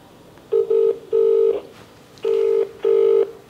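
A phone handset sounds a run of short electronic dial tones in quick bursts, then pauses and gives two longer tones, clear and close with no voices over them.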